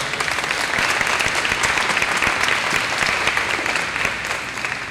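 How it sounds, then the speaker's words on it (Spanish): A live audience at a talk applauds for nearly five seconds. The clapping is loud, dense and continuous, and it eases off slightly at the end. "les pido un aplauso para ellas"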